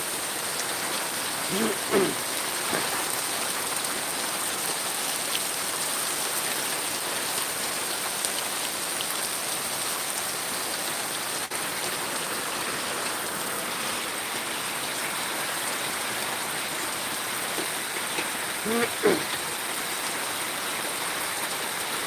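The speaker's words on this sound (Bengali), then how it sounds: "প্রচণ্ড ভারী বৃষ্টি" Very heavy rain pours down in a dense, steady hiss, with a few faint thuds and brief murmurs of voices in the background.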